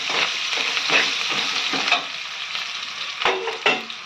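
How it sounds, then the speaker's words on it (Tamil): Onions and curry leaves sizzle steadily in a hot pan for South Indian sambar, with a spoon scraping and stirring through them in irregular strokes, close and fairly loud, no voices. "இப்போ வந்து கறிப்புல சேர்த்துருங்க இதையும் நல்லா இப்படி கலந்து விடுங்க"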